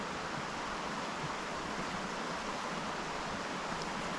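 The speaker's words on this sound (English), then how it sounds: "I don't know what the sound sounds like with the creek right behind me" A creek flows right behind someone on Alabama public land during a turkey hunt, giving a steady, close rush of water that stays even and unbroken throughout, with no talking.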